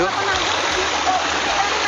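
Water gushing from a running motor pump, a steady loud rushing and splashing flow, with a voice talking over it.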